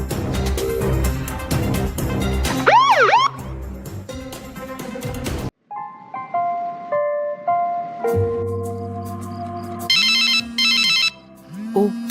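A phone ringtone goes off late at night, a loud looping electronic melody that plays alone in a quiet room, with rising chirps and repeated tonal phrases for several seconds.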